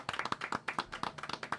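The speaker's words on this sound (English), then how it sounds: "Can we give a clap to Avery?" A small audience claps for a ballet dancer, a brief burst of quick, close, crisp handclaps in an irregular rhythm.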